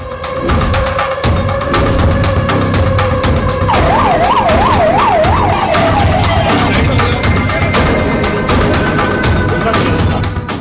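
An ambulance siren wails loud and close at a hospital in Kota, Rajasthan, first a steady tone and then a rapid rising-and-falling yelp, over heavy traffic and crowd noise.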